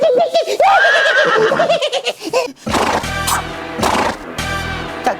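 A person imitates a horse's whinny with a rising, wavering vocal neigh, followed by loud, rough bursts of noise; the voice is close and prominent.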